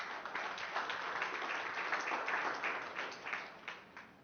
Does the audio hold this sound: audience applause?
yes